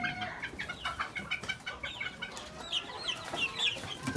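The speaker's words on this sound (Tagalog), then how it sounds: "Yung aking mga sisiw." Chicks peeping and clucking near a recovering flock of chickens, a busy mix of high chirps and soft clucks with light background noise.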